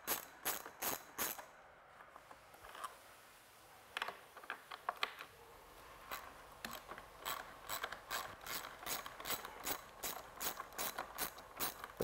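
A 10mm socket on a ratchet backs out rear bumper bolts on a Polaris Scrambler 850 or 1000 quad. Close, crisp clicks come in quick bursts, with a pause near the start and then a long, even run of ratcheting.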